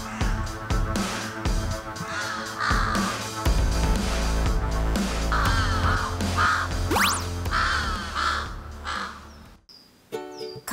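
Crows caw harshly and repeatedly near a Ural owl nest in woodland, the calls loud and close, coming in irregular bursts over a dense background of other birdsong.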